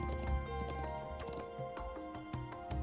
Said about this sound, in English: I'll deploy my horse.